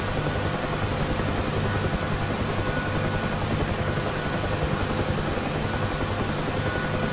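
A UH-1H Huey helicopter lifts off in the DCS flight simulator, its rotor and turbine making a loud, steady, broadband roar with an even low thump that holds without a break.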